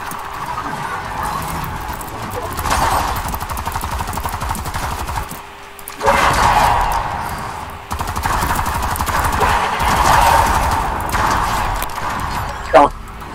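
Enemy gunfire aimed at the player during a video game shootout, heard as rapid bursts of shots mixed with game noise and someone talking over it, with a sharp crack near the end.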